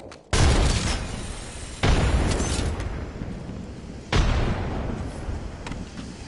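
Frag grenade blasts in Apex Legends: three loud, sharp booms spaced a couple of seconds apart, each followed by a decaying rumble, close and without talk.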